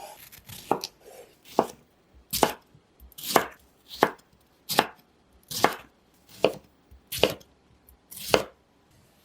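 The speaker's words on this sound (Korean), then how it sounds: "토마토는 적당한 크기로 써세요." A knife chops tomatoes on a cutting board in about a dozen close, crisp strikes at an uneven pace, each a sharp knock with a brief slicing tail and quiet between them. No one speaks.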